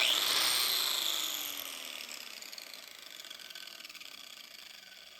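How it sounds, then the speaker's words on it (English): A high, whining grind of a slightly wobbly shrinking disc against the sheet-metal bonnet of a 1966 Triumph GT6, loud at first then easing to a steadier, quieter hum that continues to the end. "My shrinking disc is actually a little bit wobbly."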